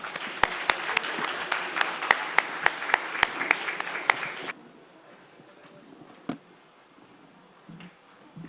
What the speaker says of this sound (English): let's welcome with a huge round of applause